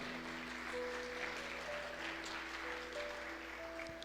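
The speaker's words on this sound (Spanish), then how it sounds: "Dele ese aplauso fuerte a Cristo." A church congregation applauding during a sermon, a steady dense wash of clapping held at an even level throughout, with faint sustained organ or keyboard tones underneath.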